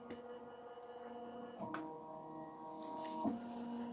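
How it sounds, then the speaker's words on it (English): A home embroidery machine traces the outline of an appliqué design on a glitter heat-transfer-vinyl project, giving a steady motor hum with soft shifts in pitch as it moves around the frame. "the machine is tracing right now"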